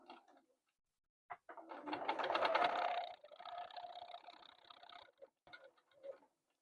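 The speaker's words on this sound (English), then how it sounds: "I'm going to take a few stitches, and I'm going to back stitch" A sewing machine stitches across a quilt block, including a few back stitches, with short bursts of rapid mechanical whirring and ticking separated by pauses, fairly quiet and close.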